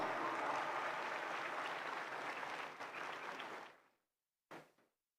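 An audience at a religious lecture event applauds to welcome the Governor of Sindh, a dense wash of many hands clapping that fades out, then a brief last burst of claps.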